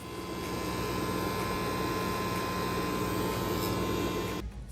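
A FurMe dog grooming vacuum tool with clipper attachment runs continuously while trimming a dog's coat, a loud, steady motor whine and airflow drone close up that cuts off abruptly near the end.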